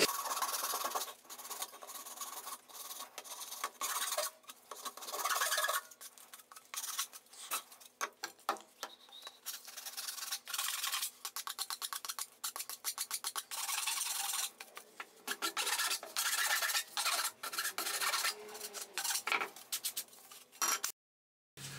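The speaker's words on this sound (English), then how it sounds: "So we'll just remove the burrs using a file." A metal file deburrs the freshly cut edges of a plastic pipe being prepared for solvent welding, giving a steady run of close, dry rasping strokes with a few brief pauses and no talking.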